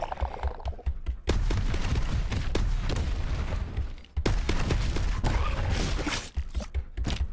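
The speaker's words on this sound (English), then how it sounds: "And even it sounds like a freaking bolt gun." A bolt gun fires repeatedly in the shooter game Dreadhunter, giving sharp heavy blasts in quick succession over a dense, continuous roar of combat noise, with only short pauses.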